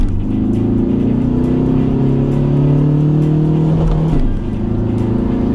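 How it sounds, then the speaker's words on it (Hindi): Tata Harrier SUV accelerating hard from a standstill in sport mode, steady loud engine drone rising through the gears with a brief gear-change dip near the end, heard from inside the cabin. "let's start from zero and sprint all the way up to 100 kilometre per hour and a little above"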